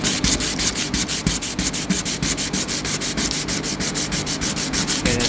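60-grit sandpaper rubbed briskly back and forth over a Stanley tape measure blade, a loud, close, rhythmic rasping with about five or six strokes per second, steady throughout.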